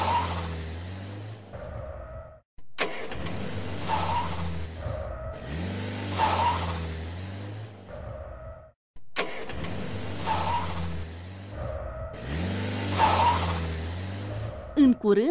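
Cartoon race cars in a children's animation start up and rev at a sports arena, with bursts of engine roar separated by brief gaps and mixed with music-like tones.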